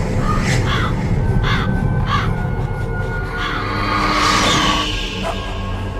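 Ravens caw in a Metal Gear Solid video game cutscene, several harsh calls repeating over about six seconds against a dense, steady background score.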